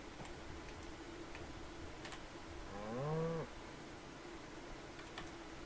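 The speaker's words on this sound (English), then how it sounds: "Oh, there's the cow right there." A single short cow moo from the survival video game Atlas sounds at moderate distance, standing out over a quiet background of faint ticking game ambience.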